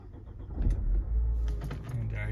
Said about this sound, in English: Just let's start the motor.